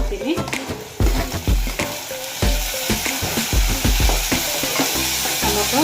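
Tomatoes sizzle and fry in a hot pan with ginger-garlic already reddened, for a jackfruit-seed palya; a steady loud crackle with bursts of stirring scrapes and a voice speaking intermittently over it.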